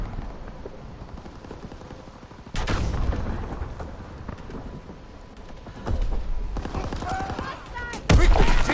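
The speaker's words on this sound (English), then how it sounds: "They are sniping the shit out of us." Gunfire in a PS4 shooter match, sharp loud reports breaking out every few seconds over a constant busy battle din, with voices talking throughout.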